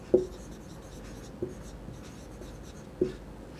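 Chalk or marker strokes on a board while working through a polynomial factor-theorem problem, three short distinct taps spaced over a few seconds against quiet room tone, with no talking.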